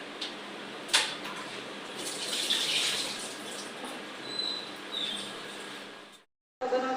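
Hands being washed under a running tap in a home kitchen during samosa making, a steady splash of flowing water that stops abruptly near the end.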